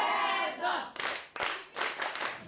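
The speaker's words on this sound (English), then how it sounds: "All clap for yourselves." Audience at a Bamenda city gathering clapping in uneven bursts with some cheering, following a voice at the start, moderately loud and close.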